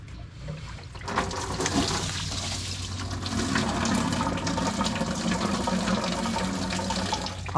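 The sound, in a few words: engine coolant draining into a bucket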